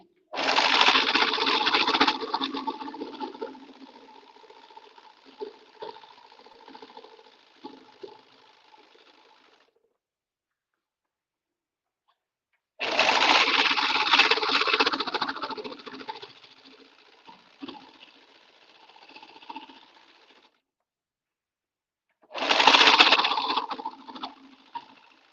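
A serger stitches a thrifted tablecloth in three bursts: rapid, close, loud mechanical whirring that tapers and stops, with quiet gaps of silence between runs and no talk.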